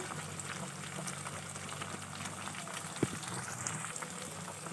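Spice paste with turmeric, ginger and salt frying in a pan for a vegetarian soybean curry, a soft steady sizzle and bubbling throughout, with one faint clink midway.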